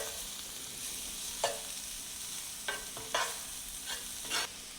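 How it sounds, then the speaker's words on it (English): Minced shallot and vegetables sautéing in a pan, a soft steady sizzle with a few brief scraping stirs standing out at intervals, no voices. "start off with one medium-sized shallot, minced. All I want to do is soften all of these vegetables up."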